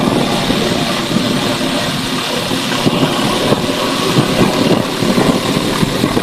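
An agricultural direct-seeding drone flying over a rice field, producing a loud, steady propeller buzz and drone that stays constant and close throughout.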